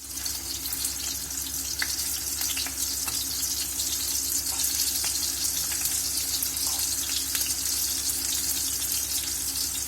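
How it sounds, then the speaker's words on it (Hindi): Homemade chicken tikka sausages fry in a hot pan, giving a loud, steady sizzle with faint crackles that runs unbroken throughout, with no talking. "मैं आपको फ्राई करके भी सॉसेजेस दिखाती हूँ"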